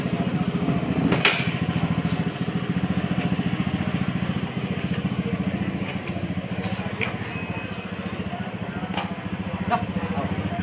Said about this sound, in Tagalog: Testing natin kung ayos ba yung performance ng motor niya.